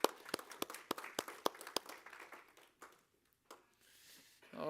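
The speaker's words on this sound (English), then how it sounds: "Give them a round of applause." Scattered, faint applause from a church congregation during a Sunday morning service: about a dozen distinct claps in an uneven rhythm that thin out and stop after a few seconds.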